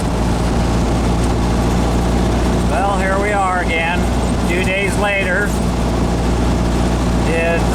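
Idling air-cooled VW conversion engine with a 2110 displacement, a steady low drone running throughout while someone talks over it.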